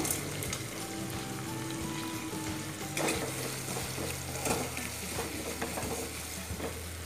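Tomatoes sautéing in an oil-filled pan for moong dal sambar, a steady close sizzle and frying hiss with occasional stirring scrapes throughout, no talk.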